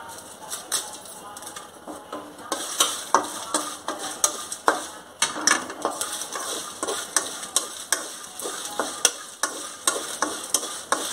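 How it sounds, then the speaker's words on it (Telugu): Dried red chillies frying in a pan for a drumstick-leaf powder, with a steady sizzle under repeated stirring scrapes that tick along in a fairly regular rhythm, close and moderately loud. "ఎండుమిర్చి వేయించేటప్పుడు మాత్రం స్లోగా పెట్టేసుకోండి"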